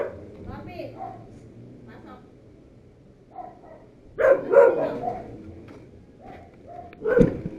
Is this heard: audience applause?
no